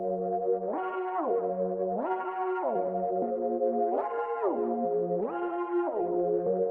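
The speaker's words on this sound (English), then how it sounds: "It's this weird kind of pitch bent, wobbly kind of pad sound." A wobbly, pitch-bending synth pad plays sustained chords that swoop up and down in slow, repeating waves, with a chorused, effected sheen and no voices.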